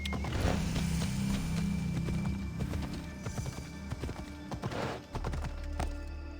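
Horse hooves clip-clop over rocky ground in Assassin's Creed Odyssey, a steady run of close, crisp knocks with a whinny and light game ambience underneath.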